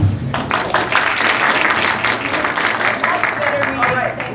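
Audience applause filling a room as a crowd claps together on request, a dense steady patter of many hands lasting several seconds, with voices mixed in underneath.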